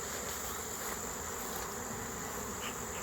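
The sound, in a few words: honeybees buzzing as they return to the hive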